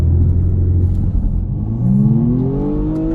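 A 2020 BMW M135i xDrive launching under launch control, the engine droning loudly before climbing into a rising roar as the car accelerates hard, heard from inside the cabin with no talk.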